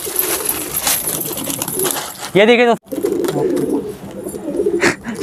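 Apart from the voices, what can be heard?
pet pigeons cooing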